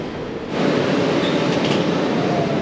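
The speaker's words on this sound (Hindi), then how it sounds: "ये लाइन 2 की जो मेट्रो, उसके अंदर आ गया हूँ" Aboard a Chongqing Metro Line 2 subway train, a broad steady rush of wheel and motor noise swells after half a second and holds loud and continuous, with faint squeals near the top.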